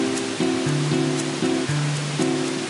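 Water in the video game Final Fantasy Blackmoon Prophecy gives a steady, loud wash of surf-like noise, under sustained tonal game music with stepping melodic notes.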